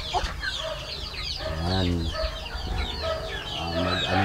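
Rhode Island Red hens and a large rooster cluck and call close by in a farmyard, with a crowing burst in the middle, while a person speaks briefly among them.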